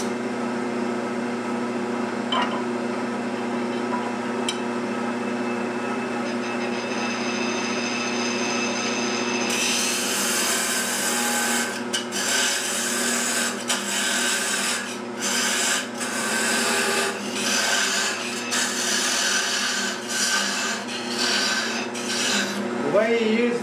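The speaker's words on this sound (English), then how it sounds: "the way you use the parting tool, you lift up, that's how you cut it off" A parting tool cuts a turned lidded box off a wood lathe, heard as a steady hum from the spinning lathe with a scraping, rasping cut that gets harsher and louder about halfway through, and no talk.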